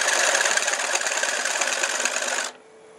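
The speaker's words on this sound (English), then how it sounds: "Too much chatter with that small tool." A wood lathe turns a bowl with a small tool, giving a dense buzzing, rattling chatter that runs steadily for about two and a half seconds and then cuts off abruptly to near silence.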